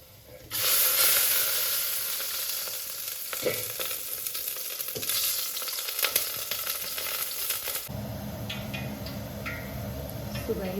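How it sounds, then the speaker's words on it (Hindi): Crushed ingredients roast in plenty of desi ghee in a pot over a gas flame, giving a steady, fairly loud sizzle with occasional stirring scrapes and clicks; the frying quietens and changes near the end. "अब इनको मैं घी में रोस्ट करती हूँ"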